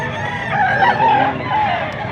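A quality gamecock crowing at a busy chicken sale in Angeles, Pampanga, one loud sustained crow close by over a noisy crowded background.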